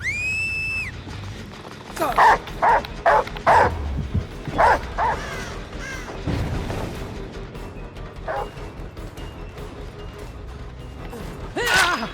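A dog barks repeatedly in the Dead by Daylight video game, with short loud bursts in two clusters among creaking, mechanical game sounds, then a lone bark near the end.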